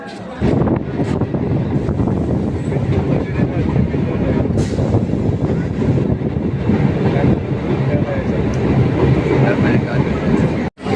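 A local train runs between Sodepur and Agarpara stations on the Naihati to Sealdah line, its loud continuous rumble and rattle heard from on board with wind buffeting the microphone.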